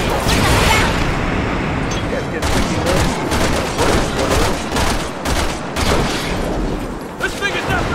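Rapid gunfire crackles in Resident Evil 6, with dense bursts of shots and booms running almost without a break. Game action and effects sit underneath the shooting.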